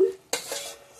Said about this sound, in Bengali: পনিরটা দিয়ে দিচ্ছি এখন